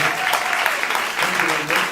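Applause from a jazz concert audience at a tribute concert in New York, a steady dense wash of clapping that stays even and fairly loud for the whole stretch.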